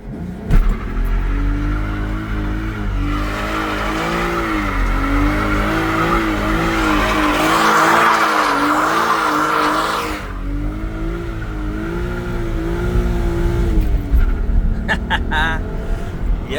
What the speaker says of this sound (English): will it do a burnout?